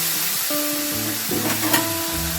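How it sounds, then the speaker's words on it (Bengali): Butter hits a hot wok on low gas heat for homemade ghee, giving a soft, steady sizzle with light stirring scrapes and no talking. "এখন আমি মাখনটা দিয়ে দেবো।"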